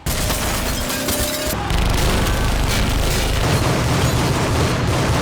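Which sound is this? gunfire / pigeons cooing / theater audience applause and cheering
gunfire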